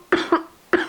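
A woman coughs three times in short, sharp bursts, two close together and a third after a brief pause, near and fairly loud with no talk.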